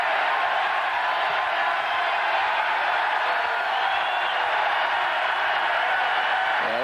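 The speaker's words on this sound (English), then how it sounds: "the Aggie crowd comes to life now" Texas A&M Aggie crowd at a 1991 college football game against Houston, a loud, sustained stadium roar of cheering and whooping that stays steady throughout.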